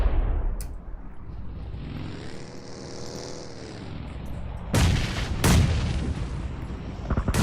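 A grenade explosion in a competitive battle royale game, heard as a heavy boom with a rumbling tail amid aircraft drone and sharp gunfire bursts, no talking.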